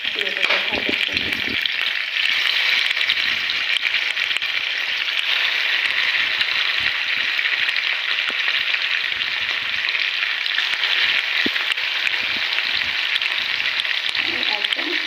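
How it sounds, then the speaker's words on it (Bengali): Hilsa fish fry in oil over a low flame, giving a close, steady crackling sizzle that holds constant throughout, with a few light clicks near the start. "আমি একদম হালকা লো ফ্লেমে ইলিশ মাছটা ভাজছি।"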